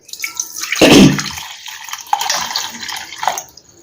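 Water pours in a strong burst into a vessel, then trickles and splashes more lightly for a few seconds, with no one speaking.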